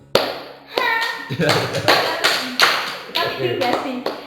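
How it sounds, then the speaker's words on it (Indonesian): A handful of people clap in short irregular bursts after a casual chat among statistics alumni, close and uneven, with chatter mixed in. "aplaus dulu dong"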